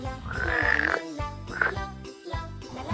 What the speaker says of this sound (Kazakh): Бақа.